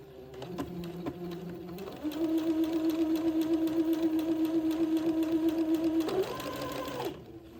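Domestic sewing machine running a straight stitch along a pressed seam, a short start, then a steady rapid whirring hum for several seconds with a pitch lift near the end before it stops.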